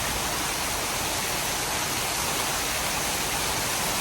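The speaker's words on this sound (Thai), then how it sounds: "ฝนตกหนัก" Heavy rain from a storm pours down as a dense, steady hiss of broadband noise that stays loud and unbroken throughout, with no voices.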